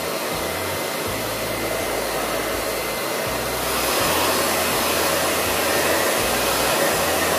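A hair dryer blows steadily to dry craft paint for a crackle finish, a loud continuous whirring roar that grows slightly stronger partway through as the dryer moves.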